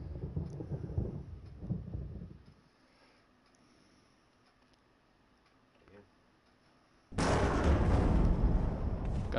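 Thunder rumbles in Resident Evil HD, a heavy low roll at the start that fades into quiet, then a sudden loud crack and sustained roar near the end.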